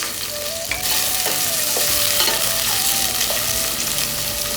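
Chopped onion and green chili hit hot oil in a pan, a loud burst of sizzling that erupts just under a second in and stays dense and crackling, heard up close with no voices.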